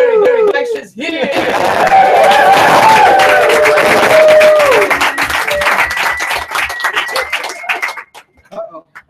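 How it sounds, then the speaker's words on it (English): An audience at a community gathering in Ubud, Bali cheers and applauds in a loud, dense wash of clapping and voices that swells after a brief pause, holds steady, then thins out and fades near the end. "So everybody offer up a cheer."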